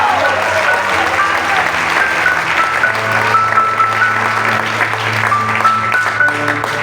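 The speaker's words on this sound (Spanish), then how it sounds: "Alguien que dé un fuerte aplauso al Señor en este día." A church congregation bursts into loud, sustained applause during a sermon, with sustained organ or keyboard chords and voices mixed in beneath the clapping.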